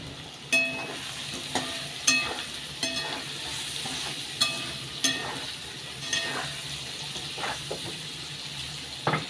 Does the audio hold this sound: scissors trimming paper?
no